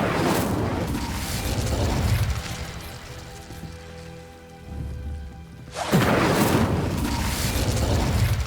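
A fire spell blast in Hogwarts Legacy, a loud whooshing, crackling burst that roars for a couple of seconds, fades to a low rumble, then surges again in a second roaring rush.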